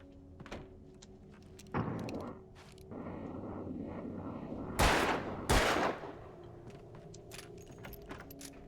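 Two sharp, loud broadband bursts of flashbang explosions go off close together in the Alan Wake video game, standing out over a low ambient rumble and scattered clatter.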